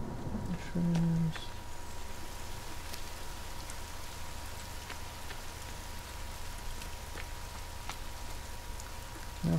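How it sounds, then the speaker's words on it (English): Steady rain in the survival video game The Forest, a soft continuous hiss near a lake and meadows, with a brief low tone early on and faint scattered ticks throughout. "Rain."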